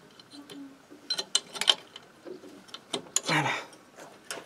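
A flat wrench loosens the top of a spark-gap rod on a low-voltage ignition coil, giving a series of brief metallic clicks and ratcheting scrapes, close and fairly quiet, with a longer grinding burst near the end and no talk.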